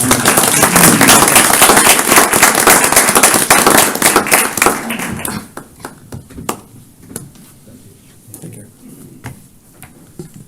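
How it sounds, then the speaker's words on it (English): A round of applause at a county council meeting, dense and loud for about five seconds, then thinning into scattered claps and quiet room noise. "Give him a round of applause."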